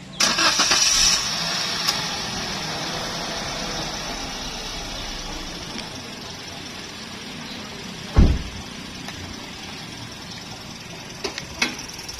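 A Daihatsu Sigra X 2018 engine, hood open, cranks and catches, then settles into a steady idle hum nearby, with a dull thump partway through.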